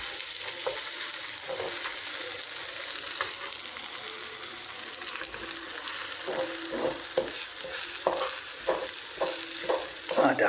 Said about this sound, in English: we're making scrambled eggs anyway